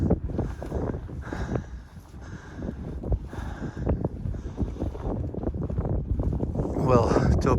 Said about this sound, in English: And there's quite a wind, quite a bit wind here, because we are on the rooftop.